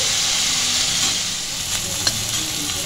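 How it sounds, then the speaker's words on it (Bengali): Bata fish frying in a pan for a chorchori, a steady close sizzle and hiss that runs unbroken throughout, with a faint clink or two of stirring near the end. "একটু ভেজে নিচ্ছি,"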